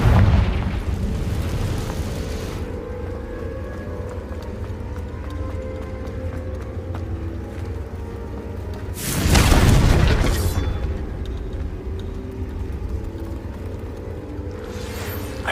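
A Confringo fire spell explosion in the video game Hogwarts Legacy, one loud booming burst about midway that rises out of a steady rumbling game background and then fades back down.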